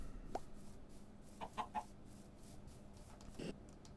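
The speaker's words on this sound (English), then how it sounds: "Hello, chicken." A chicken in Minecraft 1.6.4 gives a few short, soft clucks spaced apart over a quiet background, faint and close with no talking.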